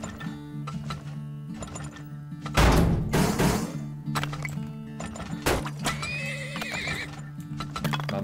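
A horse in the video game Turmoil neighs in one loud whinny with hoof clip-clops, over a steady looping game soundtrack.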